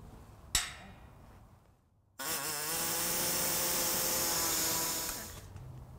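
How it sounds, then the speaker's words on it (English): A single sharp click sounds, then after a brief pause an air saw rasps loudly and steadily for about three seconds, cutting to enlarge a hole in a 2015 Ford Focus frame before winding down. "I'm gonna use an air saw and we're just gonna open this up a little bit"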